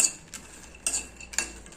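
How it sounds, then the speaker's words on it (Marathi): A spoon scrapes and rattles against a kadhai in three quick strokes as fox nuts (makhana) are stirred in a little ghee, fairly quiet with no voices. "कढईमध्ये मखाना टाकल्यानंतर मखाना क्रंची होतपर्यंत चालवत राहायचं"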